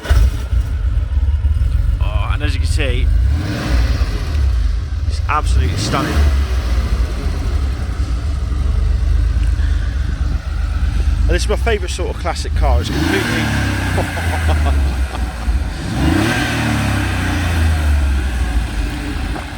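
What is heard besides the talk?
1989 Porsche 911 Carrera 2 (964) engine starting and running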